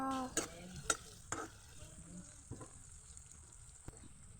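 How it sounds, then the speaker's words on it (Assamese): Garlic and dried fish sizzle in a hot pan, with a steady frying hiss broken by a few sharp clanks and scrapes of stirring, close and moderately loud. "এয়া নহৰু আৰু শুকান মাছ দিলোঁ"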